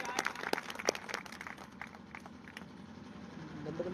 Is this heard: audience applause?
yes